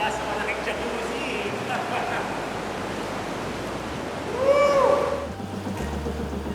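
Ocean waves surge and crash in a sea cave off Calayan Island, a continuous washing roar with a swelling surge midway, while a voice talks over it.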